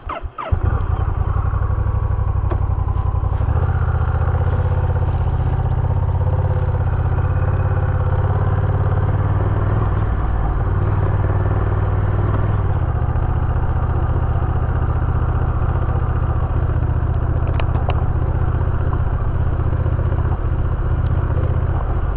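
Honda Rebel 1100 DCT motorcycle ridden at low throttle below 20 mph during a break-in ride, a loud, steady low engine rumble heard up close with wind noise throughout.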